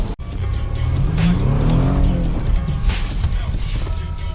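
A BMW 328 car accelerates along a road, its engine note rising and revving steadily in a continuous close roar, with tire noise underneath and no speech.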